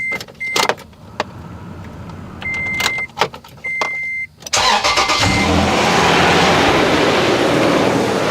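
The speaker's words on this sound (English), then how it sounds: "when I start the vehicle" A 2006 Toyota Tundra 4.0L V6 is heard nearby: first clicks and brief electronic chimes, then the starter cranks and the engine catches into a loud, steady idle that runs to the end.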